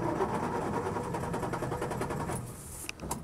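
A 1970 Land Rover Series 2a 88-inch hardtop's engine runs with a steady, rapid mechanical clatter close by, easing off toward the end as a few clicks and knocks follow.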